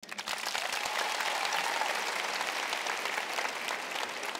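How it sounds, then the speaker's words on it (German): A comedy show audience at a large live comedy night claps in dense, sustained applause, the crowd's clapping loud and close throughout. "Einmal in die Hände klatschen, wer schon mal Let's Dance gesehen hat."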